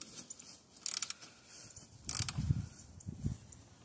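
A ratchet tightens a T50 Torx bolt on a Jeep while Rough Country Black Series LED lights are fitted, giving short bursts of quiet clicking between pauses, close and faint.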